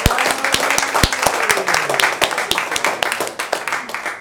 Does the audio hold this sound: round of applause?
yes